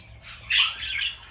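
A budgerigar gives a loud, harsh squawk up close, one sharp rasping burst followed by a softer trailing chirp.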